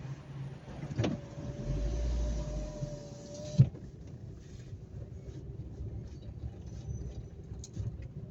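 A bank ATM at a mall opening for a cash deposit, heard as a steady mechanical motor whir lasting a few seconds, ending in a clunk, over background hum and ambient noise, with no talking.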